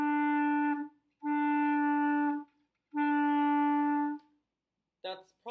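A reed instrument sounds three separate held notes with short gaps, played with too much of the tongue touching too much of the reed, moderately soft, followed by a brief burst of a voice at the end.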